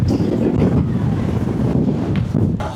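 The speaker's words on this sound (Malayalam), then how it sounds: "അപാര കാറ്റ്" Strong coastal wind at the sea in Kanyakumari buffets the microphone in loud, continuous roaring gusts that swell and dip, with surf blending into the rumble and no voices.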